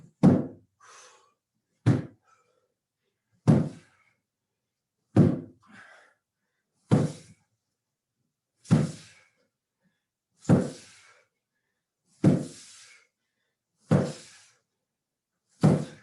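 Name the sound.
slam ball slams during workout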